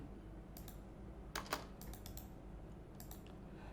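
Close, quiet typing on a computer keyboard while writing C programming code, irregular bursts of light key clicks with a couple of firmer strokes, no talking over it.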